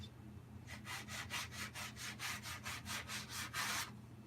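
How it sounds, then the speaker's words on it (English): Hand sanding of a wooden tree stump stool makes about a dozen rhythmic back-and-forth rasping strokes, close and steady, then stops, leaving a quiet low background hum. "sand with the grain"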